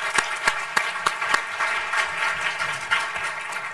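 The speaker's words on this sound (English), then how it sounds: "Let's give them a round of applause" Audience at the Doha Forum applauding a panel discussion: a dense, steady wash of many hands clapping at moderate volume, with a few sharper claps standing out near the start.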